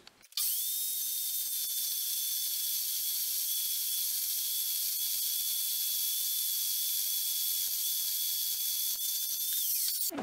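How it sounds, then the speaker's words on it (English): An Evolution saw cuts through a chunk of rebar in a forging shop with a loud, continuous, high-pitched metallic grinding whine that holds steady for about ten seconds, then cuts off. "we're going to go cut us off a chunk on the evolution saw"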